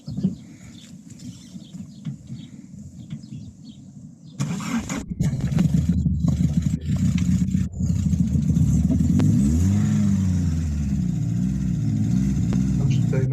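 A VW Golf MK2 16-valve GTI engine cranks and catches after quiet background with faint birdsong, then settles into a loud, close idle with a few revs rising and falling.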